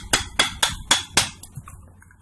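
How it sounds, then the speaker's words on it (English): Five sharp metallic hammer taps in steady rhythm, close and loud, driving a pitman arm oil seal into a power steering box, followed by a few lighter, fading knocks. "hammer it in position"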